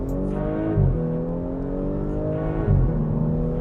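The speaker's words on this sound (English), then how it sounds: "So, decent noise from the exhaust there." Exhaust note of a 2018 Audi S5 Sportback accelerating, a loud steady drone with rising tones and two brief gear-change dips, close and continuous without talk.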